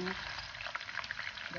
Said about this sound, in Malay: Kita kacaukan sehingga naik bau dan sedikit berubah colour kita punya bawang